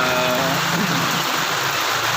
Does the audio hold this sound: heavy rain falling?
yes